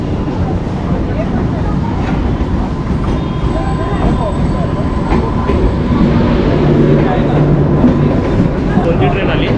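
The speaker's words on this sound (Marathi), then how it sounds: "कोणती ट्रेन आली." Mumbai AC fast local train, Badlapur to CST, at platform 1 of Badlapur station: a steady, loud rolling rumble with faint rail clatter fills the whole stretch, with voices murmuring in the background.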